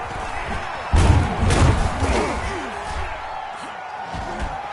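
A stadium crowd roars in a Madden football video game before a Denver Broncos versus Cincinnati Bengals matchup, a steady wash of cheering with a sudden heavy thump about a second in and fainter knocks afterward.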